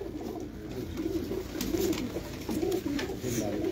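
Pigeons belonging to a Lahore fancier coo in repeated low rolling phrases, several birds murmuring together up close, with a faint voice briefly in the background.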